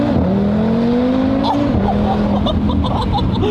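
An Audi S4 with a stage 1 tune pulls hard off the line under launch control, its engine note climbing steadily and shifting once while a steady loud roar continues.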